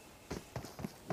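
Enemy footsteps to the left in PUBG Mobile, four soft, evenly spaced thuds at a quick walking or running pace, fairly faint and with nothing else heard.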